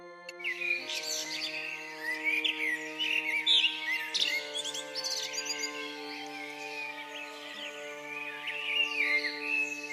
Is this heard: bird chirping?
yes